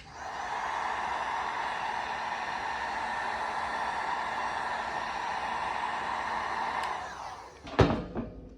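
A heat gun warming old vinyl lettering on a truck, giving a steady, moderately quiet blowing hiss for several seconds before it cuts off, followed by a few brief handling knocks.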